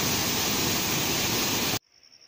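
Rushing water from a small waterfall on a jungle route between Yurimaguas and Nuevo Tingo, a loud steady roar that cuts off abruptly near the end.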